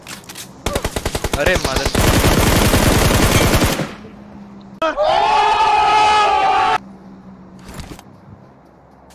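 Gunfire in an online shooter game, with long bursts of rapid automatic fire followed by a sustained ringing blast and a later lone shot, loud and close while players talk excitedly over it.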